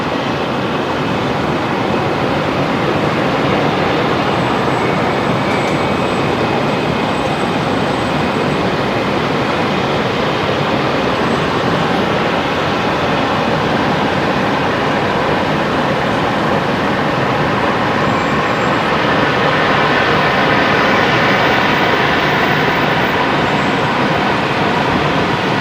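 Velocity jet airliner taking off from runway 19 left at Brisbane Airport, a loud, sustained, broad roar of jet engines rumbling steadily for the whole stretch, swelling slightly toward the end.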